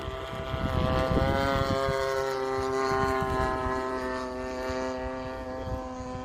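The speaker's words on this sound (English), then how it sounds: "It handles the wind out here really good, and I'll set up for a landing." A 30cc gas engine on a Hanger 9 Taylorcraft quarter-scale RC airplane drones in flight outdoors, a steady buzzing tone with strong harmonics holding at moderate distance for several seconds, with no voices.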